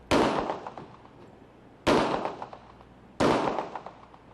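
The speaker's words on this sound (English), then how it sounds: "See for yourself as the officer fires the weapon." Three loud .40 caliber handgun shots fired by a police officer, spaced about a second and a half apart, each a sharp crack followed by a brief echoing decay, with no talk.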